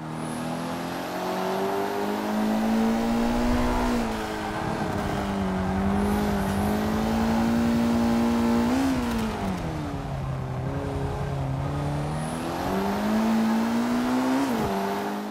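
A car drives hard in the Forza 5 racing video game, its engine revving high and rising through the gears, easing off under braking, then climbing again, loud and close with a continuous whine.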